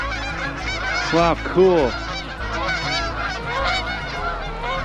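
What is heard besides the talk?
geese honking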